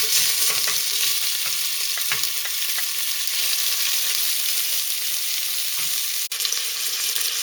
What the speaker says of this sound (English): heat it up until it gets really hot. Okay, I'm going to fry it in 2 batches.